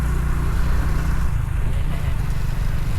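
A motorcycle carries a family along a rural farm route, its engine giving a steady, close, low rumble with wind noise throughout.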